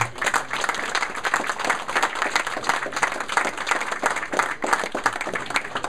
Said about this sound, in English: I'd just like to ask you to give yourselves a round of applause for making such an effort